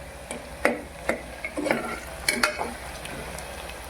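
Mutton and onions frying in a pan or pressure cooker, with a soft steady sizzle broken by several sharp scrapes and clinks of a spoon stirring against the metal.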